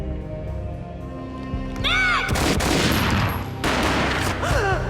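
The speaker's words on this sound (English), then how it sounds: "A gunshot boomed and she fell down in slow motion." Gunfire rings out in the Max Payne game on PS4, with sharp loud shot bursts and their ringing tails over a busy background with brief voice-like sounds.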